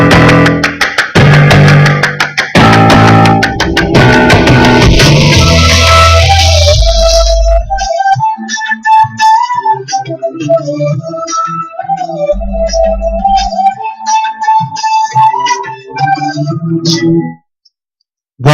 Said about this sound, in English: If that new theme music doesn't get you excited, what does?